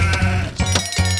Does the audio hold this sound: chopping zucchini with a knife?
no